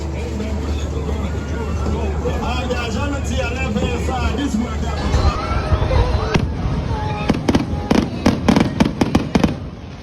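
A fireworks show at Six Flags: a crowd murmurs as distant booms build into a rapid burst of loud crackling bangs near the end.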